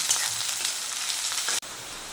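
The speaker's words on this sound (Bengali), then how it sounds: "এগুলোকে হালকা একটু ভেজে নেব" Capsicum and green chilies fry in a pan for a restaurant-style veg manchurian, giving a loud, steady, close sizzle that cuts out for a moment near the end and then resumes.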